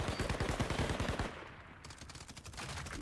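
Rapid bursts of video-game gunfire during a multiplayer match in a wasteland, a dense run of loud automatic shots in the first second followed by scattered quieter shots further off.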